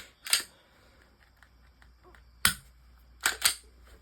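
Glock 30 Gen 5 pistol giving a sharp close click near the start, then after a pause two more quick clicks in a row, trigger pulls and resets heard alone against a quiet room.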